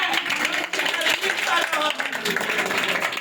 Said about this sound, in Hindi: मैं इन हाथों से ताली बजा रहा हूँ